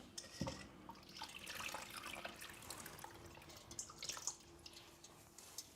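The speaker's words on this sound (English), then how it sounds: "Let me discard the water." Water is tipped out of a Thermocook Pro M 3.0 pot, giving a quiet close pouring and dripping splash that lasts a few seconds with small droplet spatters toward the end.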